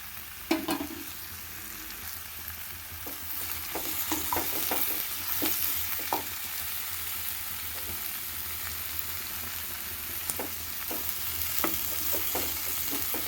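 Eggplant pieces fry in a pan on a new home stove while being stirred, a soft continuous sizzle punctuated by scattered scraping and tapping strokes of a spoon, close but fairly quiet, with no talking.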